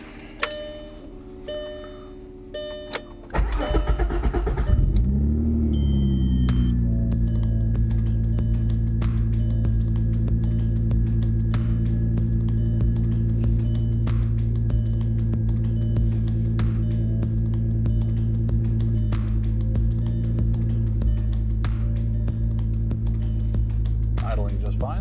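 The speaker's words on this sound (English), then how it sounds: "Idling just fine." An Audi B5 S4 engine turns over and fires after a few seconds of quiet clicks and knocks, then settles into a steady, even idle that runs close and alone to the end.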